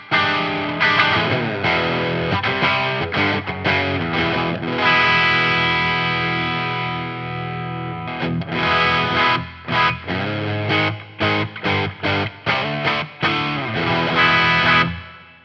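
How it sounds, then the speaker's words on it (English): Electric guitar run through a Tube Screamer overdrive pedal with reverb on, playing loud, mildly driven chords and single notes that ring out, then a run of short choppy strummed stabs with gaps between them near the end. "Let's just turn on this tube screamer real quick, give a little bit of drive, and keep it there."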